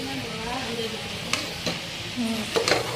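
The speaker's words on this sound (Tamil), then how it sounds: "வெஜிடபிள்ஸ், மீன் பக்கர் எல்லாமே மசாலாவில் மிக்ஸ் பண்ணி விட்டுக்கோங்க." A spoon stirs mixed vegetables, peas and fish pakora into masala in a hot pan, a steady sizzle running throughout with a few sharp scrapes and knocks of the utensil near the end.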